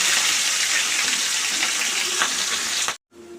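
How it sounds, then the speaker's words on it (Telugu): Beans masala frying in a pan with onion, green chili and curry leaves, a loud dense sizzle for about three seconds that cuts off abruptly into near silence. "2-3 సార్లు మూత పెడుతూ ఇలా ఫ్రై చేయాలి"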